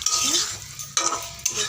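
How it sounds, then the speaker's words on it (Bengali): Aloo dum with green peas being stirred and fried in a wok, a steady sizzle with scraping stir strokes and a couple of sharper utensil knocks against the pan, close and moderately loud. "কড়াইশুঁটি দিয়ে আলুর দম হচ্ছে।"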